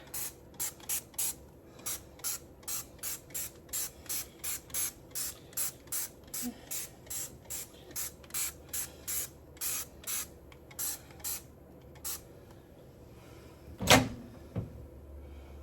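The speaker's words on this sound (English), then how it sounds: "Spray down our stove with some Dawn Power Wood" A spray bottle of Dawn Powerwash cleaner is squeezed onto a stove in a rapid steady rhythm, about two dozen short hissing spritzes, followed by a sharper clatter near the end.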